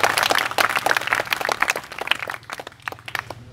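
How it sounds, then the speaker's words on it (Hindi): A crowd applauds at a result announcement ceremony, a burst of dense clapping that stays loud and steady before thinning out over a few seconds. "तालियां इनके लिए।"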